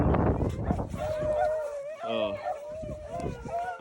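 Beagles bay and howl in long wavering cries while chasing cottontail rabbits outdoors in high wind, with gusty noise, a few short yips and people talking nearby.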